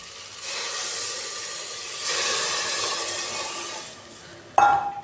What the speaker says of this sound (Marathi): आता मी याच्यात पाणी टाकून घेणार आहे।